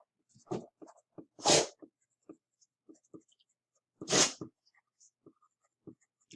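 Two sharp, breathy sneezes from puppies, a few seconds apart, with quiet scratching and tapping sounds in between.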